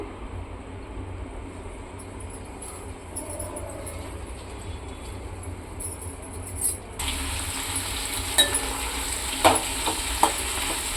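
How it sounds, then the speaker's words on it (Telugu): Gongura leaves frying in a little oil in a pan on a stove, a steady soft sizzle that jumps louder and brighter partway through as the leaves go in, with a few faint clinks from stirring. "ముందుగా కడిగి పెట్టుకున్న గోంగూరని ఫ్రై చేసుకుందామండి"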